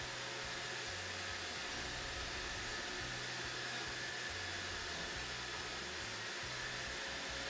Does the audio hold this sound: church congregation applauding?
no